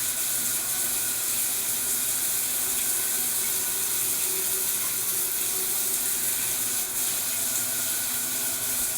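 An overhead shower runs steadily, a dense continuous hiss of spraying water, close and even throughout with no voices.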